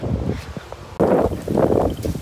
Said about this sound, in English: it's fucking windy as fuck